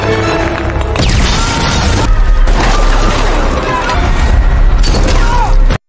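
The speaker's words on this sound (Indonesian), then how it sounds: "keadaan berubah dengan suara ledakan granat yang dilemparkan Devon" A thrown grenade explodes in an action film, a loud, dense booming blast with crashing debris and rumbling layered over a busy soundtrack, sustained throughout before cutting off abruptly.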